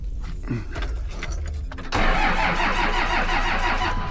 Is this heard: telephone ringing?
no